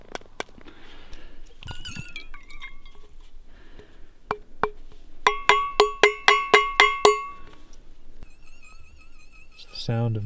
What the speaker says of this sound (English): That's the sound of gold on metal.